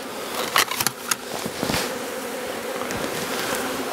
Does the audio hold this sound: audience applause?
no